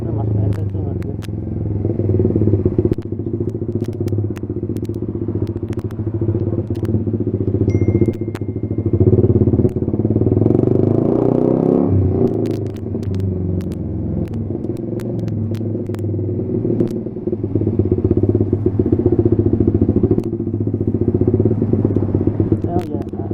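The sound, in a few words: small sport motorcycle riding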